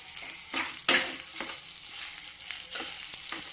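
Potato bhaji being stirred in a frying pan with fresh coriander, a soft continuous sizzle broken by several scraping stirs and one sharp clink, close and fairly quiet.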